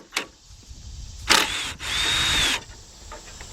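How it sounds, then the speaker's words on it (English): A power tool drives a 10mm bolt out of a radiator support on a 2006–2010 Chrysler PT Cruiser. A short whir comes first, then one longer close whine lasting about a second and a half, with clicks between them. "we got a bolt right here, 10mm. We'll take that bolt out."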